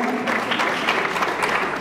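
A comedy festival audience breaks into loud, steady applause, many hands clapping together in a brief close burst.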